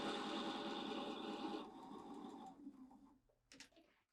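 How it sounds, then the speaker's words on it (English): A sewing machine stitches across a starter strip and onto fabric with a steady, close mechanical whir that runs for a couple of seconds, then slows and fades into a few light clicks and taps. "we have a starter strip that we just kind of get sewing with and then come right onto the fabric"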